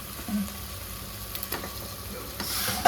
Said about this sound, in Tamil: கொஞ்சம் வதங்கட்டு. மிக்ஸ் பண்ணி உருளைக்கிழங்கு 2-3 கத்திரிக்காய்.